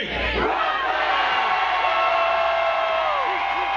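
A large crowd at a Brooklyn street-naming ceremony shouts "Brooklyn" together in one loud, sustained burst of voices, the massed yelling holding steady for several seconds nearby.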